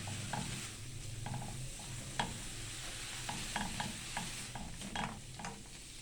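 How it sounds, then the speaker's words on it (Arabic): Spices stirred and sautéed with onion and tomato in a pan for a crab dish, low steady sizzle beneath repeated light scraping and tapping of a spoon, no one talking. "هننزل بالبهارات بتاعتنا كده، تاخد تشويحة مع البصل والطماطم. نقلبها تقليبة حلوة كده"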